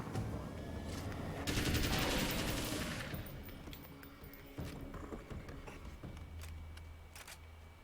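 Gunfire from a gun in the video game Alan Wake's American Nightmare, a loud rapid automatic burst lasting a second or two, followed by a few scattered single shots over a low game ambience.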